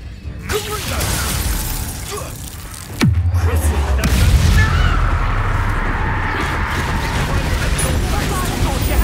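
A Confringo blasting curse goes off in the Hogwarts Legacy video game: a sharp crack at the start, then a loud bursting blast with a deep rumble that lingers over continuous battle noise.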